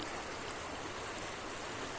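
The Perumpallam stream near Erode flows with a steady, even wash of water, continuous and moderately faint, with no voices over it.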